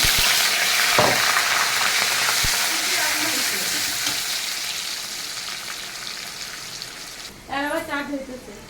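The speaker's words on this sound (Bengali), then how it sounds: "এখন এর ভিতরে দিলাম আমি কিছুটা পেঁয়াজ কুচি।" Chopped onion sizzles loudly in hot oil in a pan, a bright continuous fry with occasional utensil clinks, fading somewhat before a voice speaks at the end.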